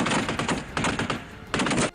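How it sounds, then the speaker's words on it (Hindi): Bursts of machine gun fire during a military exercise in Jordan, loud and close, three rapid rattling volleys separated by brief pauses. "एक के बाद एक इतनी गोलियां दागी गईं कि वीरान इलाका गोलियों की गड़गड़ाहट से गूंज उठा।"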